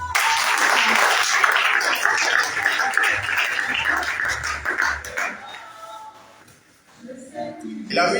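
A church congregation at a Sunday service in Abidjan applauding, a dense steady patter of many hands that fades out toward the end, with some voices mixed in underneath.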